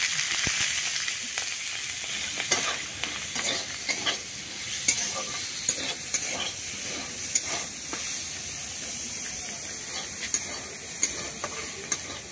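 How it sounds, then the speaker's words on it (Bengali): Freshwater pond snails (gugli) fry in oil in a pan, a steady close sizzle with scattered crisp pops and stirring clicks, no talk over it. "এখন এই গেরিগুলো কিন্তু আমি তেল দিয়ে একটু ভেজে নেব।"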